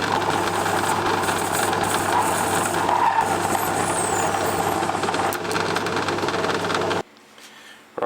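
A metal lathe parts off a small oil can fitting, producing a continuous dense grinding, chattering cut that holds steady for several seconds and then stops abruptly, leaving near quiet.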